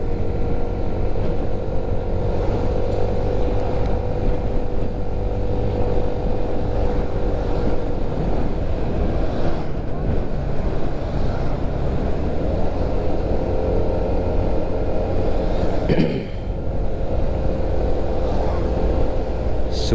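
Steady road traffic on a main road in Lawang, Malang, on a quiet holiday: a continuous loud engine rumble and wind-buffeted drone with no breaks, heard close as if from a moving vehicle.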